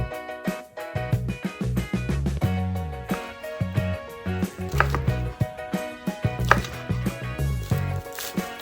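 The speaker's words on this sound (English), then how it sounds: "Cut smoked or andouille sausage into cubes" A knife chopping smoked or andouille sausage into cubes on a cutting board, a steady run of crisp, close knocks in quick rhythm with brief pauses, heard alone.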